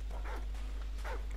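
Attack dogs in a survival-mode video game on a village map give two sharp yelping barks about a second apart, loud and close over a constant low hum.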